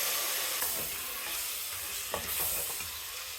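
Boneless mutton sautéing in a pan with ginger garlic paste, a steady close sizzle with a few clinks and scrapes of stirring, no voices.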